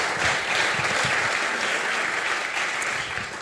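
Audience applause at a Dutch evening talk event about veiling, a steady wash of many hands clapping filling the room without pause, fairly close and even in level.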